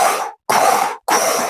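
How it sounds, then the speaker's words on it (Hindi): Three harsh, loud coughing bursts in quick succession, each broad and raspy, from someone behind a curtain, separated by brief silent gaps. "तभी पर्दे के पीछे से खांसने की एक ऐसी आवाज आई जैसे मेरा दम ही निकलने वाला हो"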